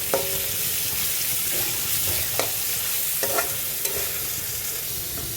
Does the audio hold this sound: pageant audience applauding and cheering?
no